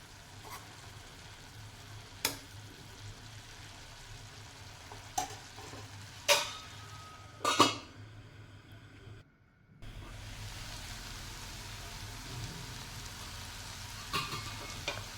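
Cabbage vegetable cooking in a covered pan gives a steady soft sizzle with a few sharp clanks of the lid and utensils. After a short quiet gap the sizzle returns louder and more even, with no talk.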